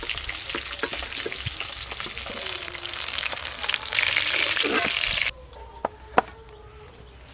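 Large pieces of fish fry in oil, giving a close, busy sizzle with scattered crackles that swells loudly before dropping to a quieter hiss with a few sharp clicks and pops, and no talk.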